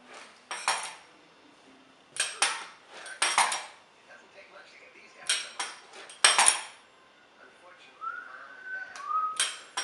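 Knife cutting homemade floured noodle dough on a board: a series of short crisp chopping taps in uneven clusters, fairly close, with a faint whistle-like tone near the end and no talk.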